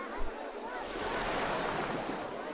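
Boat ride in RollerCoaster Tycoon splashing down into water, a steady rushing wash of spray and surf that swells slightly and holds, loud and close with no talk.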